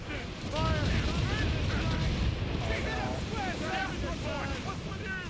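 Mortar and cannon fire rumble through a naval battle in Assassin's Creed Rogue, a dense, continuous roar of booms with wind and waves, overlaid by whistling projectiles and shouting crew voices.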